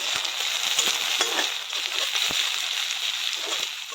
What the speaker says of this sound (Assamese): যোনখিনি মই থেতেলি লৈছিলোঁ সেইখিনি ইয়াত মই দি দিছোঁ আৰু দি মই এতিয়া ভাজি দিম।